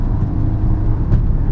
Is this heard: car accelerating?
yes